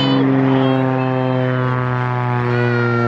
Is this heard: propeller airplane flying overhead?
yes